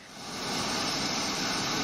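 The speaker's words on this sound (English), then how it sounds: "a helicopter lifted off with one of the victims" Helicopter lifting off near a jetty after a boat crash, a loud, steady turbine roar and rotor wash that swells over the first half-second, then holds constant, without speech.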